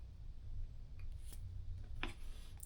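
Scissors trimming thread for hand-stitching thick leather: a few quiet, crisp snips spaced apart over a soft low hum, close by and faint.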